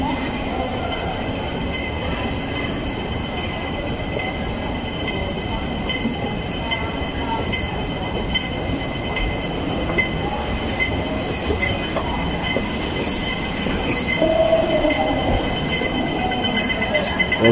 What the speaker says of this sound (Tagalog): pababa na kami dun sa ano, sa mini train na maghatid kami dun sa kabilang terminal